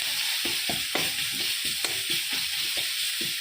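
Turmeric, coriander, cumin and chilli powder frying in oil for a rohu fish curry, close sizzle with rhythmic spoon stirs and scrapes against the pan, no voices over it.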